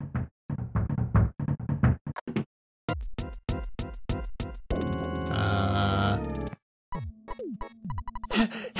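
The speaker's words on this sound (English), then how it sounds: "Who could be knocking at the door at this time of night?" Knocking at a door in the game EarthBound comes as rapid bursts of sharp, rhythmic knocks in quick runs, mixed with grunting and sighing character sound effects and a brief buzzy tone.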